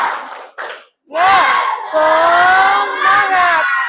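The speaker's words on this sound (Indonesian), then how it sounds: "Ayo tepuk semangat." A classroom of children chants a rhythmic spirit cheer together, with short bursts first, then a loud sustained group shout that rises and falls. It is close and fills the room.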